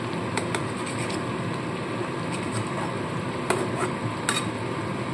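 A metal spatula scrapes and clinks against a pan while fish cooks, with a low steady sizzle underneath and a few sharper taps standing out, close and moderately loud with no talk.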